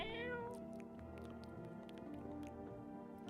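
A cat meows in the horror video game Let Me In, a drawn-out mew at the start that trails into soft wet chewing and small patters, quiet throughout.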